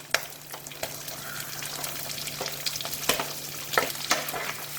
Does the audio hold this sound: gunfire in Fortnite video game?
no